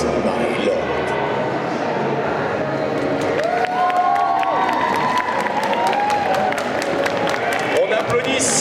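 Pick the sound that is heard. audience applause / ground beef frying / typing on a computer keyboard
audience applause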